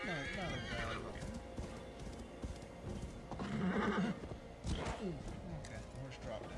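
In Assassin's Creed Valhalla, a horse neighs loudly over a steady clip-clop of hooves, with someone talking over the game sounds now and then.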